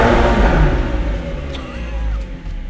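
A turbocharged McLaren 720S engine fires up and revs, a loud, continuous low roar filling the whole clip and easing off slightly toward the end.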